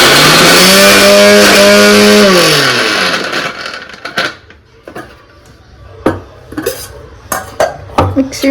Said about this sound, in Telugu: ఇది మిక్సీకి పట్టినాక చూపిస్తాం అక్కడ మిక్సీ కూడా రెడీగా ఉంది